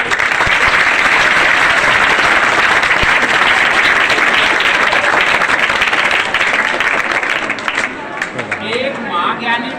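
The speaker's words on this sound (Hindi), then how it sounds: "जोरदार ताली बजाओ इसके लिए।" Loud sustained audience applause at a school toppers award ceremony, thick crowd clapping and cheering that fades out near the end as a voice begins speaking.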